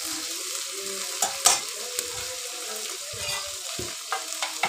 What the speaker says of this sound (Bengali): মাছগুলো কিছু মশলার সাথে আবার কষিয়ে নেব